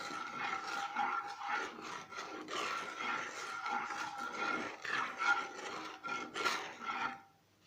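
Turmeric powder and salt are stirred together in a pan for homemade popcorn. The dry rasping and scraping strokes are near and continuous, then fade out at the end.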